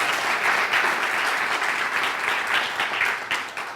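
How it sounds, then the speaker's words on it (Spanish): Sustained applause from a church congregation, a dense steady wash of many hands clapping at even loudness throughout, with no talk over it. "Dele un aplauso al Señor"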